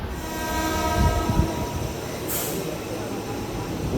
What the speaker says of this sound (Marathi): अशा पद्धतीने ही पेनवरना पेन दिवा ट्रेन सुटलेली आहे